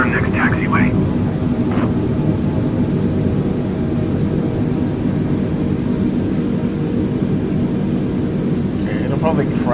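An Airbus A320 taxiing in Microsoft Flight Simulator 2020 produces a steady, loud engine drone that holds constant throughout, with brief faint voice-like sounds near the start and end.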